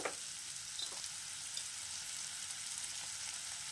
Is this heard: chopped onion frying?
yes